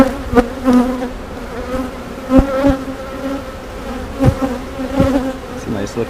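Honeybees buzz steadily and close during a routine hive inspection, a dense droning hum broken by sharp clicks and knocks as frames are handled.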